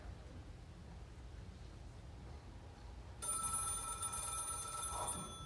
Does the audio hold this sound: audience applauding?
no